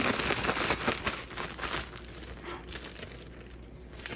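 Asparagus spears tossed with salt and pepper inside a Ziploc plastic bag, shaken so the bag crinkles and rustles in a steady close-up flurry of crackly rattling.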